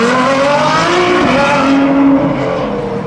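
A red Ferrari LaFerrari supercar is driven hard, its engine note loud and sustained with tires squealing throughout, no voices over it.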